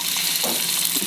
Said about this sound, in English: cumin seeds. Okay, it has become hot, it is spurting.